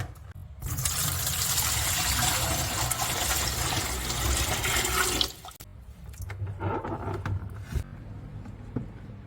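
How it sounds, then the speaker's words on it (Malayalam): Water is poured in a loud, rushing stream into homemade Kerala-style arrowroot powder for several seconds. It then stops abruptly and gives way to quieter sloshing and swirling as the mixture is stirred by hand, close by. "ഇനി ഇതിനകത്തിലോട്ട് നമ്മൾ വെള്ളം ഒഴിച്ച് ഒഴിച്ച് വീണ്ടും കലക്കാൻ പോകും"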